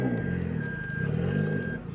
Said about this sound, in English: What are we beeping for? We're in reverse.